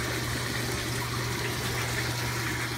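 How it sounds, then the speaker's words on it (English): Water sprays inside an aeroponic barrel potato tower, a steady close hiss over a constant low pump hum, with no talking. "So the water is spraying in there."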